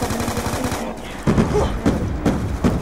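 Gunfire in Call of Duty: Black Ops 2 Zombies, with a rapid burst of shots followed by several sharp, evenly spaced single shots.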